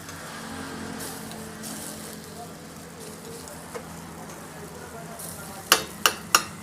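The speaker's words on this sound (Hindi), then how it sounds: "इसमें 1 बॉयल और आने देते हैं" Milk seasoned with crushed black pepper simmers and bubbles in a pan while sev bhaji is made, a soft steady rolling hiss throughout, ending in a few sharp clinks of a spoon against the pan.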